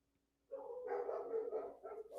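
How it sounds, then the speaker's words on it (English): Dogs start barking after a moment of quiet, a clustered run of loud barks at moderate distance, alone without talk. "There goes them damn dogs again."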